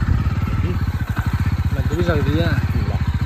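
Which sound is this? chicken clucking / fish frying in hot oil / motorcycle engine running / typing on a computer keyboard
motorcycle engine running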